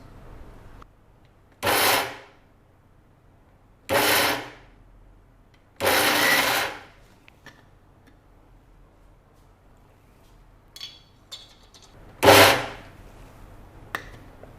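Chana dal, raw rice, tur dal and moong dal being ground to a coarse paste in a mixer, four loud whirring bursts of about a second each separated by pauses, with faint clinks and handling noises between, no talk.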